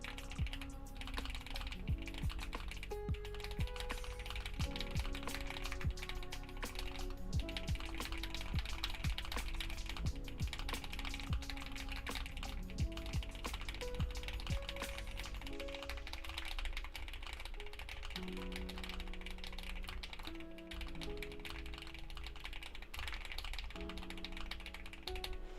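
Touch typing on a computer keyboard during a NitroType typing race gives a rapid, continuous patter of key clicks, up close and steady, with a faint background melody.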